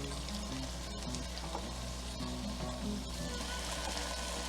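Marinated shrimp fry in a pan in rendered bacon and sausage fat, a continuous crackling sizzle with scattered pops, fairly quiet and unbroken, no voices.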